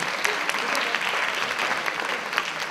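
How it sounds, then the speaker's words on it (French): An audience at the DETO 2017 cosplay contest applauds a participant, a dense, even burst of clapping from many hands throughout, fairly loud and close. "on peut applaudir Patrick"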